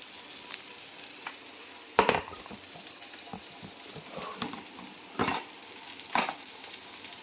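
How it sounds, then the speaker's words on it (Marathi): Paneer shallow-frying in oil in a kadai gives a steady crackling sizzle, broken by a few sharp knocks and scrapes of a utensil against the pan, with no voices. "यामध्ये मी हे सगळं शेलो फ्राय करून घेते आणि आपलं पनीर बनत आहे या साईडला।"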